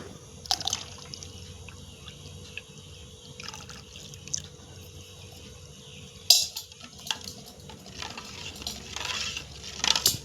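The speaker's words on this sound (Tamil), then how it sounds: "நான் ஒரு முக்கால் லிட்டர் பால் இதோட சேர்த்திக்கிறேன்" Milk poured into thick colostrum milk in a village kitchen, with faint dripping and liquid sounds, a few vessel clinks and quiet stretches between, no speech.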